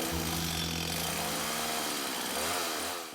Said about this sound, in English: Who's cranking up a chainsaw at a time like this?